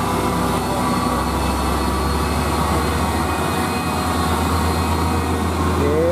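A Hino truck engine roars hard as it climbs a steep hill at Batununggul, a loud, continuous low drone with deep rumble, heard close and unbroken.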